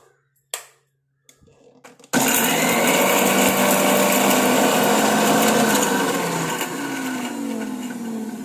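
An electric mixer grinder starts up after a few clinks and taps and then runs loud and steady, grinding henna leaves with water into a paste, whining continuously at close range.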